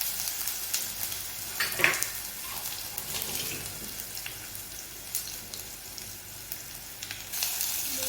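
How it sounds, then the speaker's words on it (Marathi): Cumin, asafoetida, curry leaves and ginger-garlic paste sizzling in hot oil: a steady, close, bright hissing crackle with an occasional louder pop, and no voices. "आता जिरे टाकूयात हिंग टाकूयात थोडासा यातच कढीपत्ता आणि ही अद्रक लसूण आणि जी पेस्ट बनवली आहे ती टाकणार आहोत"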